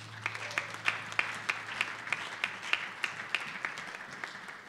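A church congregation at a Sunday service claps together in a steady, even rhythm, the beats landing about three times a second and heard from a moderate distance over a low background hum.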